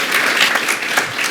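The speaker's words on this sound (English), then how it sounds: "This is really a round of applause for Mr." A seated audience at an evening event on deep brain stimulation applauds for a speaker, a brief, loud, dense burst of many hands clapping together.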